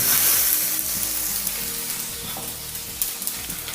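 Sesame seeds and curry leaves sizzle in a hot pan, a close, steady crackling fry with stirring scrapes and small spoon taps, no voices.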